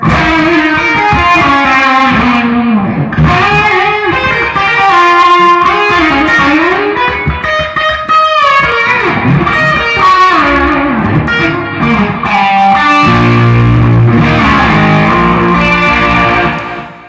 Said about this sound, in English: That's got a lot of echo.